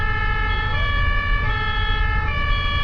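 An ambulance siren wails steadily through German road traffic, its sustained tones loud and continuous over a low rumble of vehicles, with no voices present.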